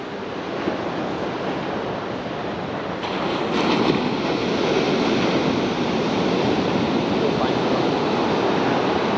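Ocean waves and whitewash break on a surf-fishing beach at Poplar Beach in a continuous roar, swelling louder partway through, with wind buffeting the microphone.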